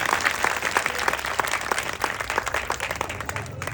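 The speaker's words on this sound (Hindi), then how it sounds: "खुदावंद के जलाल के लिए जोरदार ताली।" A church congregation at a Christian worship service breaks into loud, dense applause, many hands clapping steadily throughout with a faint murmur of voices beneath.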